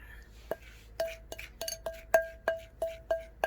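Bright, ringing clinks of dishes as food is served into bowls, about nine separate knocks in an irregular rhythm, close and clear over a quiet background.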